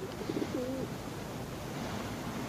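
A pigeon coos softly, giving a short run of low, rounded, rolling calls near the start and again toward the end over a faint, steady background hiss.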